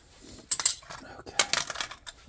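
Scrap brass pieces snipped from a dryer and wall oven part, the cut metal clinking and rattling into a container in a few quick, bright bursts close by.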